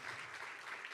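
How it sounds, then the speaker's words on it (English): Steady applause from a gala audience at an awards ceremony, a dense even wash of clapping that holds at moderate level throughout. "I love applause."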